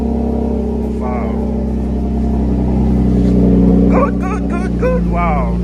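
A Ford Taurus SHO fitted with a GT42 turbo idles with a deep, steady rumble and revs up briefly, close by, while people talk over the engine.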